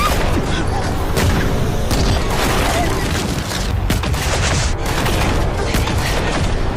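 Continuous loud blasts and rumbling booms, like heavy explosions and gunfire, fill the whole stretch with dense chaotic noise.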